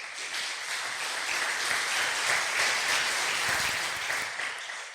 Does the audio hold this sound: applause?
yes